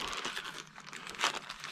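A plastic bag crinkles and rustles close by, soft and continuous with a brief louder crackle, no voices.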